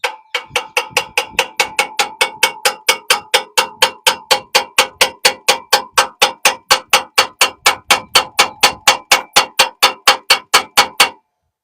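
Rapid, steady metallic hammer blows on a stuck bolt during rear main seal work, about three strikes per second, loud and close, continuing for several seconds before stopping.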